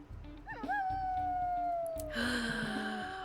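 A WolfQuest video game wolf gives a higher howl that yelps upward, then holds a long, gently falling note before a brighter, breathier sound cuts in near the end.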